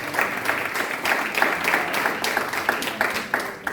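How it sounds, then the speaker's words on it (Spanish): A church congregation claps together during a Sunday service, a dense, lively burst of hand claps that holds steady for several seconds with some individual claps standing out, fairly close and loud. "Denle un aplauso"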